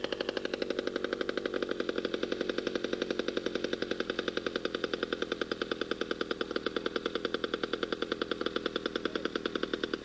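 A piston aircraft engine runs steadily at an airfield fly-in with a rapid, rhythmic throbbing beat, loud and close, continuing without pause.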